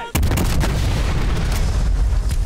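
Heavy gunfire in Call of Duty Black Ops Cold War roars loud and close, a dense booming barrage that starts abruptly and keeps pounding without a break.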